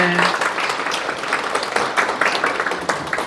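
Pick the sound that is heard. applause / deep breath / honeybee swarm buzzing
applause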